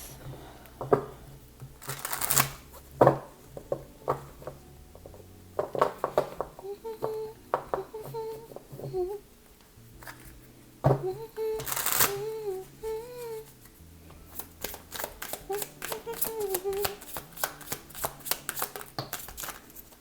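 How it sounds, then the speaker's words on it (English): Repeated bursts of tarot cards being riffled and bridged, crisp flapping rattles in several rounds, with a few faint tonal chimes in between. "so let's shuffle again"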